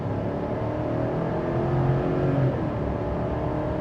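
A 2026 Chevy Silverado 1500 LT pickup accelerates, its engine giving a steady low hum with road and cabin rumble that swells slightly midway, heard from inside, with no talking.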